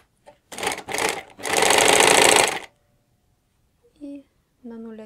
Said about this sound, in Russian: Обрабатываем нашу горловину строчку,